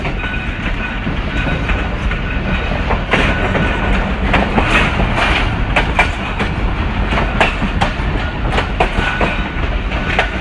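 The Hazara Express passenger train rolls along the rails at a slow caution speed, steady rumble with rhythmic clickety-clack of wheels over joints, loud and close from inside the coach.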